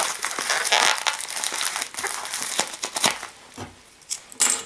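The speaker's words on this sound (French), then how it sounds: "Alors, beaucoup de papier bulle." Bubble wrap crinkles and crackles while a parcel is unpacked, close handling with irregular rustling bursts and brief pauses, no talking.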